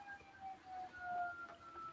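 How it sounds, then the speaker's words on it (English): Sirens wail outdoors at a distance, a steady faint rising and holding tone over low background rumble with no talking. "We got those sirens going again,"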